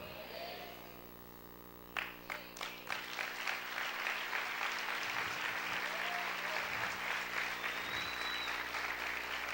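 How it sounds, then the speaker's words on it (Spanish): A church congregation breaks into loud applause that starts with a few sharp claps and swells into sustained clapping filling the room. "Si ese aplauso es para el Señor, déselo fuerte."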